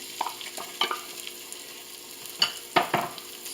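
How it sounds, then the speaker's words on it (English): Red onion is tossed into a curry pot and stirred for a vegan curry soup, giving a few quick scraping and clattering stirs over a soft sizzle, close and fairly quiet. "So we're going to go ahead and toss in the red onion."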